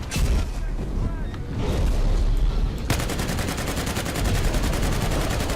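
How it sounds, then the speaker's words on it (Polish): Sustained full-auto gunfire from a whole magazine being emptied in Battlefield Hardline, starting with heavy booming shots, then a dense, steady stream of rapid rounds at close range, loud throughout. "Dobra, cały magazynek w niego wpieprzyłem."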